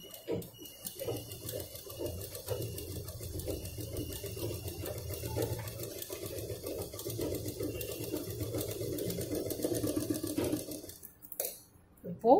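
A sewing machine stitches a seam across a cut fabric piece, running in one steady mechanical whirr for most of the stretch before stopping near the end.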